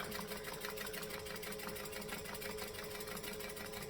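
A sewing machine stitches down fabric in one faint, continuous run, its even, rapid needle chatter holding steady throughout with no pauses.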